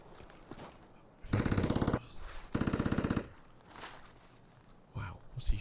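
Two sustained bursts of automatic rifle fire in Escape from Tarkov on the Interchange map, sharp and rhythmic at mid distance, followed by a few scattered single shots and footsteps.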